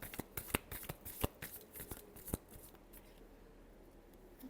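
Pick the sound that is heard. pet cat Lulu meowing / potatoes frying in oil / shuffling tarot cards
shuffling tarot cards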